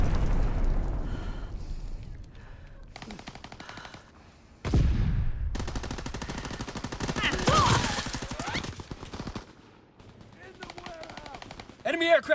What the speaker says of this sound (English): Aircraft gunner bearing down.